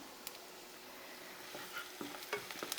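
Spring onions frying and being stirred in a pan, a steady soft sizzle with occasional scraping clinks of a spoon, fairly faint and without talking.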